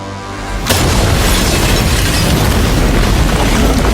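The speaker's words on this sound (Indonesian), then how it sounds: "bom meledak membakar tubuh McKenna dan merusak sebagian bar" After a brief quiet moment, a loud bomb explosion erupts in a bar and keeps roaring as a dense, rumbling blast until it cuts off.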